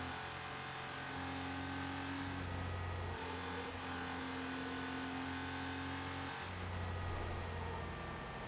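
In a Need For Speed racing game, a Porsche 911 Carrera RS 2.7 engine holds a loud, steady drone at full throttle. The pitch climbs in short runs and drops briefly between gear changes.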